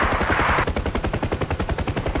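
A door gunner fires a machine gun from a UH-1H Huey helicopter in DCS World, a rapid, evenly spaced stream of loud shots over a broad hiss of rotor and engine noise.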